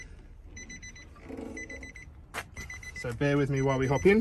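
A steady electronic chime from a 2018 Nissan Navara beeps in regular repeated bursts while someone talks over it, a car door opening and closing partway through.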